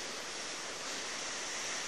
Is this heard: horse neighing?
no